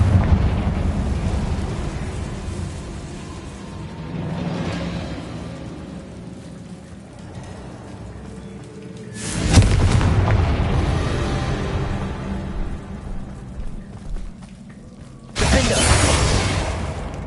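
Fire spell blasts in Hogwarts Legacy: two loud broadband explosions with rumbling tails, one about a third of the way in and another near the end, over a continuous rain-like crackle and low rumble, with no voices.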